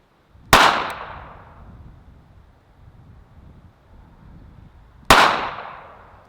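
Two sharp pistol shots ring out several seconds apart at an outdoor range, each a loud crack with a trailing decay, and nothing but light wind noise fills the gap between them.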